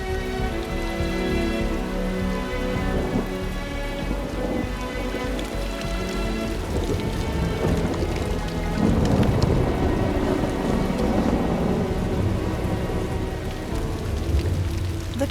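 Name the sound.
heavy rain and thunderstorm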